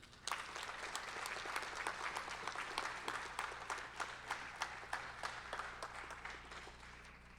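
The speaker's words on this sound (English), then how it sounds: "Give them one more round of applause." An audience at a 2017 Indian Education graduation ceremony gives a steady round of applause for staff who support Native students. Many hands clap in an even, fairly distant wash, with individual claps standing out and no voices.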